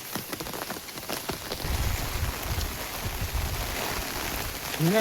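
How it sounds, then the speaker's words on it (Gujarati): Steady monsoon rain falling on a surface at Girnar, a dense continuous hiss with patter, no voices. "ફાઇનલી વરસાદ હવે ચાલુ થઈ ગયો છે"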